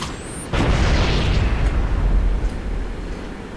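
A grenade explodes in Halo: Combat Evolved with a sudden loud boom followed by a rumbling roar that lingers and slowly fades over several seconds.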